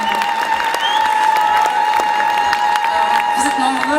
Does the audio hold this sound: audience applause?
yes